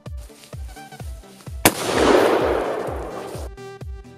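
A 12-gauge shotgun is fired at a hard padlock: one sharp, loud blast cuts through a run of steady rhythmic thumps, followed by a long, washing rumble that fades out.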